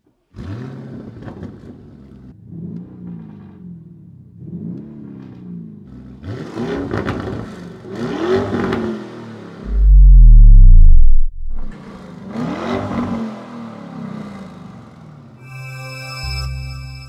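2024 Lamborghini Urus Performante engine revving in repeated rising blips and a loud roaring burst, then crackling as the revs fall. It is heard up close, with no one talking.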